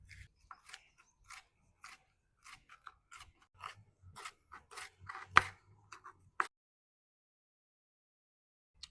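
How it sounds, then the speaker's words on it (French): Vegetables cut into thin strips for grilling on a plancha, a steady run of crisp, separate knife chops on a board, close and clear, ending after about six seconds in silence. "On va les couper en petites lanières."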